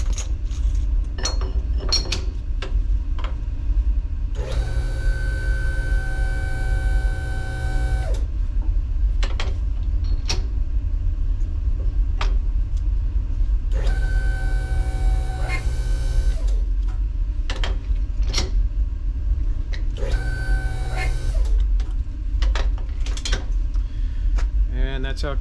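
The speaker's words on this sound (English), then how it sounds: "crimp the hoses." A hydraulic hose crimping machine crimps fittings onto single-wire hydraulic hose in a shop, three sustained whirring motor runs of a few seconds each, separated by clicks and clanks, loud and close.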